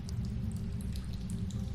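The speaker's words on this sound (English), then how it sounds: "Far in the distance, you hear a sound like the ocean." Low, steady wash of distant water like far-off ocean surf rolls on in Goosebumps The Game, a continuous rumble with faint drip-like ticks above it and no voices.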